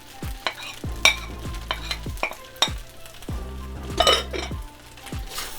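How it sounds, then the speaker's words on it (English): Fried rice with green onions and soy sauce being stirred in a pan. A spatula scrapes and clinks against the metal in repeated strokes over a steady sizzle, close and with no voices. "Going to stir it well."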